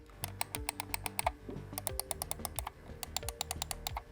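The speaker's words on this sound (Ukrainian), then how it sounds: "Всі кнопочки натискаються нормально, і клік у неї такий вже плавніший, але приємний на слух" A quick series of crisp plastic computer mouse button clicks, close and fairly quiet, coming in uneven bursts.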